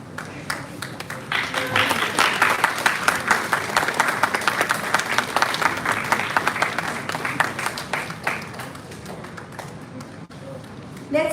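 An audience at a university award felicitation for competition judges claps steadily for several seconds, a dense, moderately loud round of applause with some distinct nearby claps, fading near the end.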